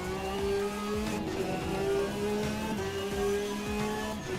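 Race car engine in a Le Mans racing video game, revving with steady harmonic whine and rising-falling pitch sweeps as gears shift, loud and continuous throughout with no talk.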